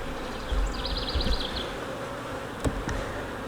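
Dense, close buzzing of many honeybees hovering around an open hive, a steady drone with a couple of faint clicks in the background.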